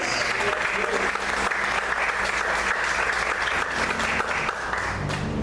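A church congregation applauds in a steady, dense wash of clapping that fills the whole stretch, with faint low tones humming underneath.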